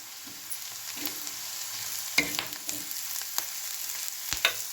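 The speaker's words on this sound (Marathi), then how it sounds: "ह्याच्यामध्ये आता आपण लसूण खोबरं आलं याची पेस्ट टाकतोय" A paste of garlic, coconut and ginger fries in plenty of oil, sizzling softly while a spoon stirs and taps the pan in sharp intermittent clicks.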